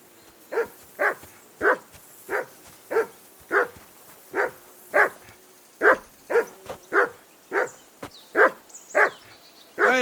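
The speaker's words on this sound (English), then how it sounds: "Whistle at that mutt of yours to stop barking!" A dog barks in the video game Kingdom Come Deliverance 2, a close, loud run of about sixteen sharp barks in a steady rhythm, roughly two per second, with no talk.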